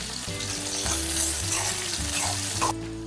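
Finely chopped onion fries in a pan for veg Manchurian, giving a steady close sizzle with stirring scrapes, muffled by music, that drops off sharply near the end.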